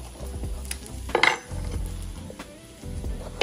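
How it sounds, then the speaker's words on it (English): A knife is washed at a kitchen sink, with a running-water hiss, a brief metallic clink and scrape of the blade, and low background rumble, quiet and close with no talking. "I'm washing my other knife."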